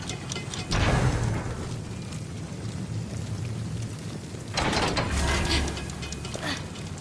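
Heavy mechanical grinding and rumbling from a lever mechanism opening an exit in Immortals Fenyx Rising, two louder surges of churning gears and thuds over a continuous game ambience.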